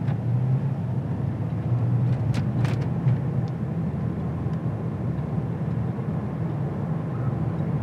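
A 2021 Mercedes-AMG rolls down a road in Las Vegas, its engine and tyre noise a steady low rumble throughout, with faint cabin ticks and no voices.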